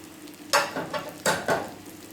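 Jamaican fried dumplings made with self-rising flour frying in a pot of oil, a steady sizzle broken by a few louder bursts of bubbling and stirring clatter, close and without talk.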